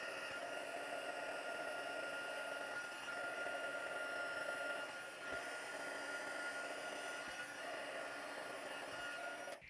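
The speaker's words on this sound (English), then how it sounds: "I'm just going to heat emboss that with the gold in the middle of this smaller one of the white" A heat embossing tool blows hot air over gold embossing powder on a circular wedding card, a steady whirring hum that stays close and even throughout with no talk.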